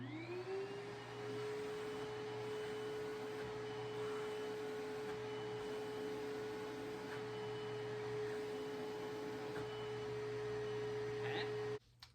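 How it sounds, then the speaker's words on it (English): A 1982 Panasonic Jet Flo MC-672 vacuum cleaner runs steadily throughout, its motor holding a constant whine with airy suction rush at the hose port, close and even, cutting off abruptly near the end. "I figured I would demonstrate the suction off of the port here just to show it has pretty good suction"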